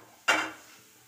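Jujube fruits tip into a pan while a peanut and jujube chutney is being made, giving one sharp close clatter that fades out over about half a second.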